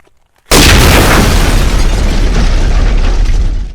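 A car is blown up in a staged blast for a film scene: sudden silence breaks into one loud, close explosive boom, followed by a sustained roaring rush of fire and debris that slowly fades over several seconds.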